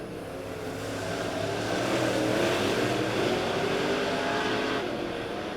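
Late model race cars roar off a green flag start on a dirt track, a dense, steady engine drone that swells as the pack accelerates, loud and sustained with no voices.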